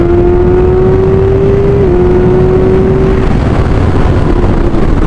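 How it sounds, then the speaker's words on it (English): A loud, steady engine drone from a 2024 Kawasaki Ninja ZX-6R with aftermarket exhaust, with wind rush, its pitch holding a sustained tone that shifts slightly, heard up close while moving at speed. "The engine is butter smooth and the sound is so addictive, especially with this aero exhaust."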